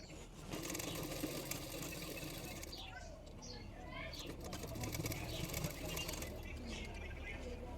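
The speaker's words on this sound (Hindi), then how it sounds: "फ्रंट साइड की तरफ फोल्ड करके किनारे किनारे पे इस तरह से सिलाई कर रही हूँ।" Sewing machine stitching along a folded blouse edge, a steady mechanical whir running nearly the whole time, fairly quiet, with faint chirps in the background.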